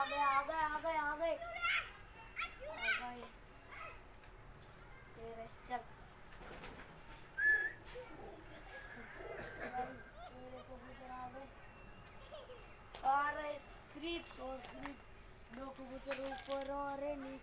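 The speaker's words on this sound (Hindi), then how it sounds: "ये आपके ना कबूतर आने शुरू हो गए" Pigeons arrive, giving soft repeated coos and short bursts of flapping wings, fairly faint and close by, with children's voices and chatter mixed in.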